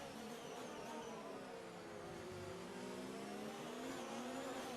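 Formula 1 race cars roar through the Singapore Grand Prix in the F1 2019 video game, a steady, sustained engine whine with shifting pitch as several cars run in a close line, with no talk.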